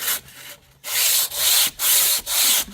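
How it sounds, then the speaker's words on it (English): Folded sandpaper wrapped in a damp cloth lightly scuffs a car's hard roof in four quick, close swipes, each a loud rasping rub separated by short pauses. "You're not sanding it down, you're just barely scuffing it"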